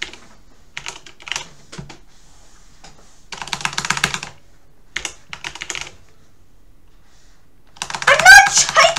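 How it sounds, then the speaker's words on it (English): Bursts of clicky computer-keyboard typing come in short clusters separated by silent pauses, close and crisp, with a louder flurry of keystrokes near the end. "Why am I so bad at typing?"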